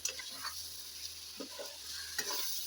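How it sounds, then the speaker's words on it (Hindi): Spices being stirred into sizzling green chicken chilli in a pan, a steady hiss of frying with scattered scraping strokes, close and fairly quiet, no talk. "अब हम मसाले ऐड कर देंगे और अच्छी तरह से मिक्स करेंगे।"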